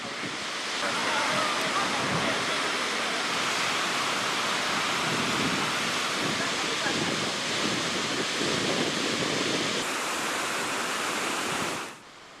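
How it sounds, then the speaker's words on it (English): Godafoss waterfall in Iceland gives a dense, constant roar of falling water at steady loudness that drops away abruptly near the end. "Finally, Godafoss, which means waterfall of the gods."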